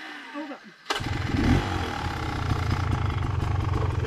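A dirt bike engine on a trail catches abruptly and settles into a loud, rough, close-up idle with a slight rise in revs toward the end.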